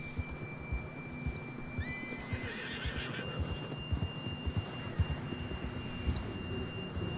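A horse whinnies in a long, high, wavering call in a PS4 video game, with soft hoof clip-clops and a steady thin tone underneath, fairly quiet overall.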